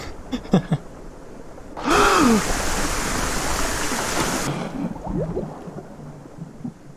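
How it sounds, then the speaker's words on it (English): In the video game The Last Door: Season 2, a sudden rush of roaring waterfall bursts in after a short gasp, holds loud and steady for a few seconds, then cuts off, leaving quieter ambience. "there's a waterfall"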